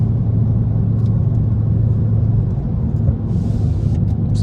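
A tuned BMW 335i 3 Series sedan driving on narrow back roads, a loud steady engine drone and road rumble heard from inside the car, holding a constant pace with no talk.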